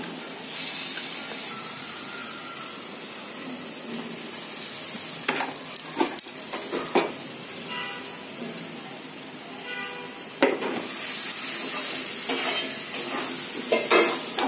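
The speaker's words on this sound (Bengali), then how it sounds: "পেঁয়াজ রসুন কষানোর পরে একটু তেল ছাড়া হবে" Onion and garlic frying in oil in a pan while being stirred, a steady soft sizzle broken by repeated scraping and clinking strokes of a spatula, close by, with no talking.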